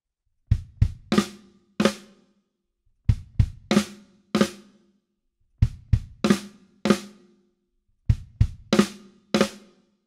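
Drum kit fill repeated four times: two quick bass drum hits, then snare flams and open hi-hat strikes, each group crisp and punchy with silence between.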